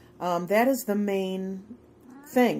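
A Siamese cat gives a few baby-like meows in the background, with a person talking over and between them.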